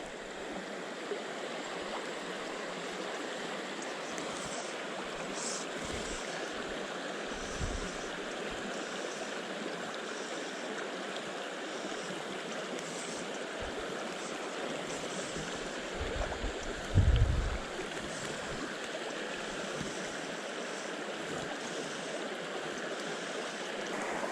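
A river in Northwest Montana flows with a steady, soft broadband rush of moving water, even and unbroken at a moderate distance, with a few low thumps near the bank.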